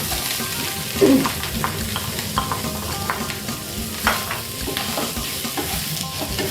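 Winter melon is stir-fried in a hot pan: a busy, loud sizzle with frequent clattering spatula strokes and scrapes, a sharper knock standing out early on.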